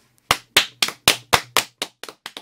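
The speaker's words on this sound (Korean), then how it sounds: "박수 크게 쳐주십시오." Studio audience clapping in a Korean radio show, heard as about ten separate sharp claps in an uneven rhythm that start loud and close, then grow fainter toward the end.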